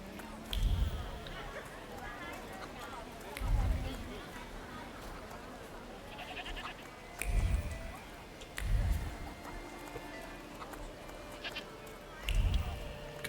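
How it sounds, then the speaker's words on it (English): Goats in the video game The Thaumaturge bleat in a rural setting, with several fairly soft bleats spaced a few seconds apart over a low outdoor ambience and some faint background chatter. "Goats."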